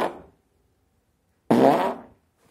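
A man imitates a fart with his voice, muffled through his shirt: a brief trailing end of one blurt, then a longer, buzzy, low raspberry lasting about half a second, close and dull-toned.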